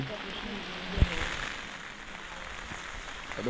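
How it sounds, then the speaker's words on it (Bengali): Heavy rain falls around a home with a lemon tree, a faint steady hiss with a few drips and a soft thud, and a voice can be heard speaking faintly beneath it. "দেখো প্রচুর বৃষ্টি হচ্ছে, প্রচুর, সেই বৃষ্টি"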